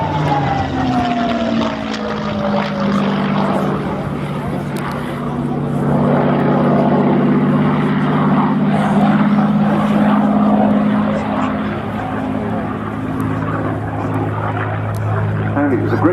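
A P-51D Mustang propeller fighter drones overhead at Scampton, its steady engine hum rising slightly in strength as it passes, with a voice speaking over it.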